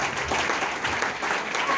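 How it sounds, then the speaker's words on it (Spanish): A church congregation claps for about two seconds, a dense, fairly loud wash of applause mixed with voices. "Dale ese aplauso al Rey."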